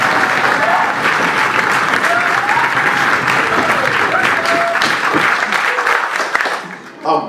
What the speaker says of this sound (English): can I just hear a round of applause for everyone that's done this stage?